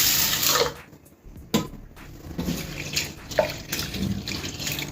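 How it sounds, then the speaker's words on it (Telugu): Rice and split moong dal being rinsed in a bowl under a tap, an uneven close splashing and swishing of water with small drips and bumps throughout. "ఇవి 3 వేసుకొని వాటర్ వేసి 1-2 సార్లు కడిగేసి పక్కన"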